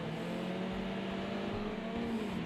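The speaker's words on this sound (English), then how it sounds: "You actually heard the mighty roar of that BMW engine." Steady engine roar of a BMW touring car in a racing video game at Silverstone, a sustained droning tone holding through without a break, fairly faint and with no one speaking.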